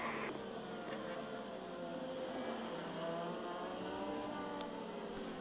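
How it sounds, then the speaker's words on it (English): IndyCar race car engine heard onboard during a race, a loud, high-revving whine that climbs and drops through the gear changes, close and steady, with no talking. "The view from Santino Ferrucci's car"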